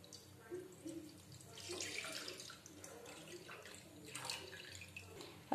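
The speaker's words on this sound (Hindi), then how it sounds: "मैं यहाँ पे लूंगी 1 लीटर दूध फुल क्रीम वाला, जिसको मैं इसमें डाल लूंगी" Full cream milk, about one litre, is poured into a pan, giving a soft, steady liquid pour that swells and fades in two waves and ends with a brief clatter.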